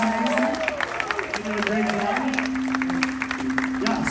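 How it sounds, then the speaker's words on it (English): An audience at a 2021 Kentucky Kingdom YouTube Q&A panel applauds the panelists, with a dense stretch of clapping mixed with crowd voices and cheers. "round of applause for our panel here"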